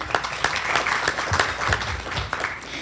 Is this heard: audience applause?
yes